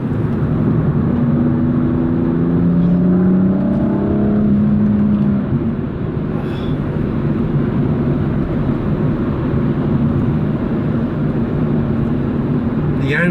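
A new car in sports shift mode drones steadily from engine and exhaust while being driven, with rising tones under acceleration early on and then a constant, loud cabin hum.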